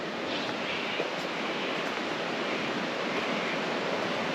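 Continuous rushing water spills over Stephen's Weir at Deniliquin, a dense, even roar with light wind buffeting the microphone and no speech over it.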